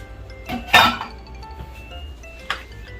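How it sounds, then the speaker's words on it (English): A spoon clinks sharply against a pan while creamy baby potatoes are stirred, with one loud clink near the start and a softer knock a little later, over a quiet background. "Now let's stir until everything is combined and heated through"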